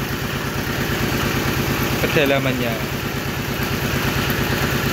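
A suction pump engine running steadily at a tofu production site in Nganjuk, East Java, a loud continuous mechanical drone with a regular pulsing throb, while someone speaks briefly over it.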